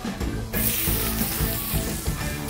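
Onion sizzles in olive oil with a dense, even hiss that jumps louder early on as the onion hits the pan, with low rumbling thumps underneath.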